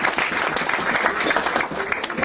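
Audience applause fills the room steadily and fairly loud throughout, with dense overlapping clapping and no speech over it.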